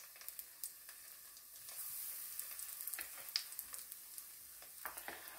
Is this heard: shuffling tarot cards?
no